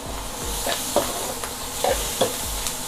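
Spaghetti noodles with shrimp stir-fried for Thai drunken noodles, a steady sizzle broken by several scraping, clattering stirs of the spatula in the pan.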